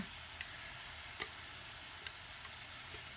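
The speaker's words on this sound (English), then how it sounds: "Listen to that sizzle." Chorizo fries in a non-stick green pan, giving a steady, quiet broadband sizzle throughout with a few faint ticks and pops and no talking.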